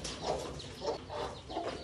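A hen clucks close by in a farmyard, with soft, repeated clucks arriving in a loose rhythm against a noisy background.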